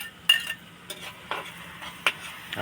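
Onions and tomatoes sautéing in a pan for Filipino-style pork asado, heard as a soft, steady sizzle broken by several sharp spatula scrapes and stirring clinks spaced about half a second apart, fairly close and quiet.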